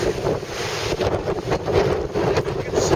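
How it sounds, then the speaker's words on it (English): Strong, gusty wind on the Orkney Islands buffets the microphone in loud, uneven surges, with roaring rumble and bursts rising and falling over a few seconds and no talking. "It feels like it's blowing about 20 miles an hour."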